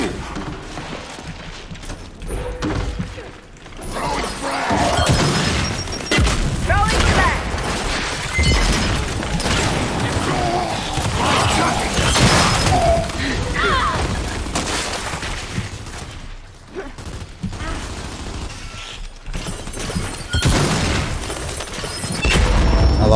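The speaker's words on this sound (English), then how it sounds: "Flashbangs, bro. That's what I live for." Loud booms and crashing bursts from Gears 5 combat, with flashbang blasts breaking through heavy continuous game noise and scattered gunfire while a player talks over it.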